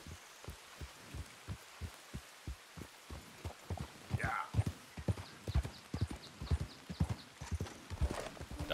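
Horse hooves clip-clopping in a steady walking rhythm in Red Dead Redemption 2, with a brief whinny partway through and faint ambient rain-like noise underneath.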